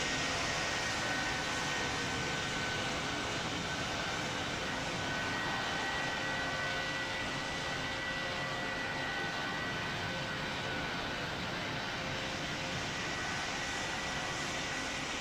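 Airliner jet engines roar steadily at close range in a flight simulator game, a dense continuous rumble that holds level throughout without any talk.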